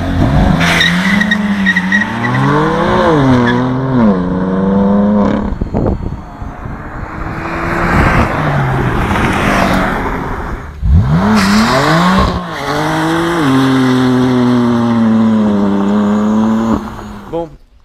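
A BMW M3 and a Toyota GT86 skid through corners, tyres squealing in long wavering howls over revving engines, loud and close, with people talking at moments between the slides.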